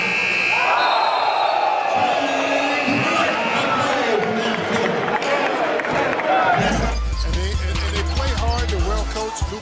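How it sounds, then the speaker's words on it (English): Basketball arena buzzer blares as a long, loud, steady tone over an excited crowd at an NBA game, cutting off midway as a lower hum and commentator talk take over. "Harden trying to get free, puts it up at the buzzer, and hits it over Jeff Greens"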